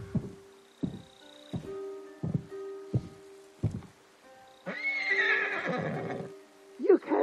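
Horse in the Ghost of Tsushima video game, a series of regular clip-clop thuds followed by a loud, close whinny and a second short neigh at the end.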